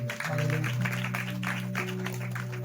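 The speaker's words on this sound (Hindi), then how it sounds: "वो जोरदार ताली बजे प्रभु के।" Church congregation applause, a dense sustained wash of clapping throughout, with steady musical tones humming underneath and a slight swell after the opening moment.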